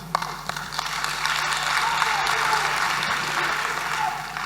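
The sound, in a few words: audience clapping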